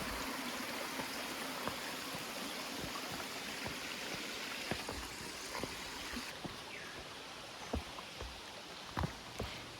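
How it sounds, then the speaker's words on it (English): A creek with many small waterfalls rushes steadily along a hiking trail in Shenandoah National Park, a soft continuous wash of flowing water with occasional light splashes and knocks. "This hike walks along a creek with many little waterfalls and 2 main big waterfall views."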